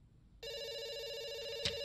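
Telephone ringing in the video game Dr. Langeskov: a steady electronic ring tone starts abruptly and holds clearly, with a faint click near the end.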